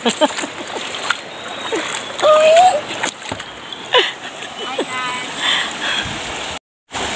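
Water splashes repeatedly as people swim in the Pasonanca River, with uneven bursts and slaps close by over steady flowing-water noise, and voices in the background.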